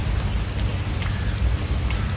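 Heavy rain falling in Sringeri during flooding, a loud steady hiss of drops on surfaces with a low rumbling undertone, continuous and without voices.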